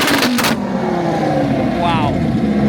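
An Audi R8 engine revs at a wild Miami street car meet, a loud throaty roar rising and falling after a brief burst of speech at the start.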